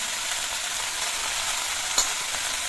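Fresh dill greens hit a hot pan with chopped red chilli, giving a dense, even, close sizzle with one sharp clink of a utensil near the end and no voices.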